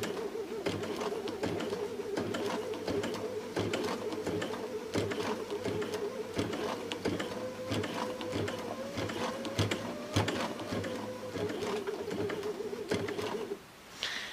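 A Baby Lock Sashiko sewing machine runs at full speed, its rapid, even stitching chatter steady and close for the whole stretch and stopping briefly near the end.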